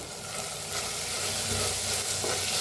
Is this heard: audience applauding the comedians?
no